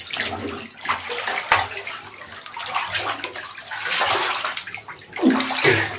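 A child dives and splashes in bathtub water, making close, continuous sloshing and splattering with bursts of splashing throughout.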